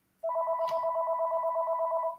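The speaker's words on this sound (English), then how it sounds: "oh, phone ringing." A telephone rings with a steady electronic warbling trill, loud and close, starting abruptly and continuing without a break, with a faint brief noise partway through.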